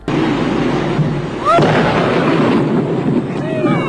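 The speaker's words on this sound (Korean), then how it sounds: "실제로 이 영상은 1970년 미국에서 기록으로 남은 고래 폭발 영상이야" Dynamite blast on a whale carcass on a 1970 US beach: a loud, sustained broadband roar that fills the whole stretch, with a sharper burst about midway and a rumbling wash trailing to the end.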